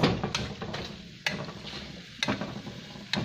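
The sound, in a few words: stirring pork with cauliflower, broccoli and mushrooms in pan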